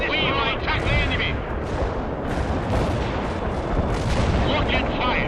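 Missile launches and explosions in the war strategy game World in Conflict, a dense, continuous rumble of booms and blasts with voices talking over the battle throughout.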